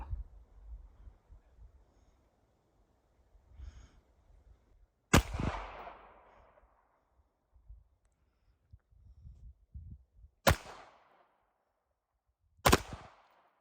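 Shots from a pistol fired upside down in bump fire, three sharp isolated reports spaced several seconds apart, with faint handling noise and quiet gaps between them.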